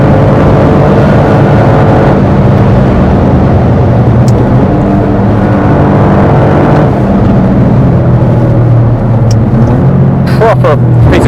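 A hot hatch with a 1.6 litre three-cylinder turbo engine drives on, a steady road and engine drone running throughout beneath people talking inside the car.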